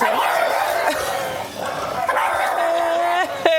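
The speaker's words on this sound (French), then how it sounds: "Je pense qu'il y a un chien qui est passé." Dog barking and yipping excitedly in a home, several close loud barks with whimpering and high yelps, over background noise.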